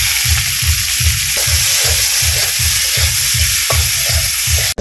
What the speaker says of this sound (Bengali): পেঁয়াজ রসুন ভাজা হয়ে গেছে